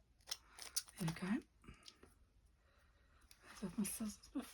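Scissors snip and trim through altered paper bags in a craft setting, giving several crisp close cuts in short bursts, with quiet pauses between and the sound of paper being handled.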